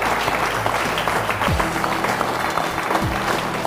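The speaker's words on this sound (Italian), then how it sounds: "merita un grande applauso" Applause for a long-serving basketball player at a bocce club event, a dense, continuous wash of clapping from a crowd, steady and fairly loud, with faint voices underneath.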